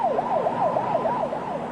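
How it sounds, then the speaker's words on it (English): A volunteer fire department emergency vehicle siren wailing in fast repeated rising and falling sweeps, loud and close, with engine rumble underneath. "The Spencerport Volunteer Fire Department was immediately dispatched to the scene, including Chief Gary Penders."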